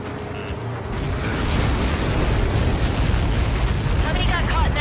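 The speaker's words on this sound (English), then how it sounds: "How many got caught in that explosion?" A massive explosion in the air-combat video game Ace Combat 7, a loud, dense rumbling blast that fills the whole clip with steady roaring energy, with game music or effects layered over it.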